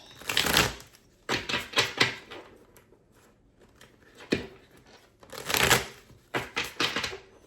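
A deck of tarot cards is shuffled and laid out, heard as several close, crisp riffling bursts separated by short pauses.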